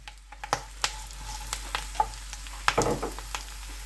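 Green chilli, dried chilli, curry leaves and onion sautéing in a pan for pork fry, a steady close sizzle broken by repeated sharp spoon taps and scrapes, no voices.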